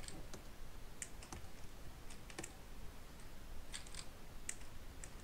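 Quiet typing on a computer keyboard, scattered clusters of light clicking keystrokes in irregular bursts over a soft background hiss.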